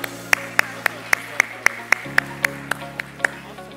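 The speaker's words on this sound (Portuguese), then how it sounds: "Uma salva de palmas, gente, para a Gabi" Slow, evenly spaced single claps, about a dozen, ring out one by one at a panel session on rare diseases, with a low steady hum underneath and no real crowd swell.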